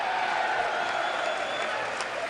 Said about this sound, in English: He got booed twice, and he's kicking people out.